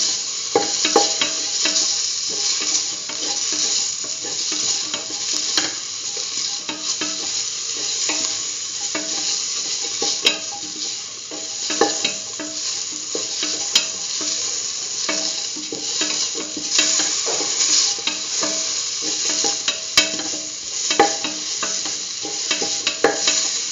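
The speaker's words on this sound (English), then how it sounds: "Mix the tomato and the mixture spices with the rest of the mixture." Tomato and mixed spices frying in a pan for potato cucumber rice, stirred steadily. A loud, continuous sizzle runs throughout, with scraping strokes from the stirring and no voices.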